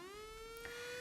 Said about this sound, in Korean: 오전 10시, 대한민국 전역에 사이렌 소리가 울려 퍼지자